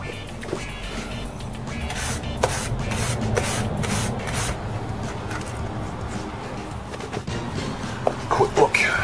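Brush sweeping over a Commodore 64 C64C circuit board after soldering colour RAM, with a series of rapid scratchy bristle strokes under talking.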